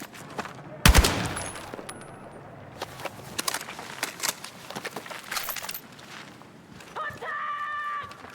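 Bursts of gunfire crackle through a Battlefield 6 combat scene as covering fire, a loud opening shot followed by scattered rapid reports and clinks, with shouted voice callouts and a rising electronic tone at the end.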